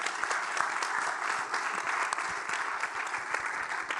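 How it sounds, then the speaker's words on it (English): An audience claps at a panel discussion on gender equity in fintech in the UK, producing steady, fairly loud applause with sharp individual claps that runs throughout and has no talking over it. "we can make a big applause because it's a good sum up"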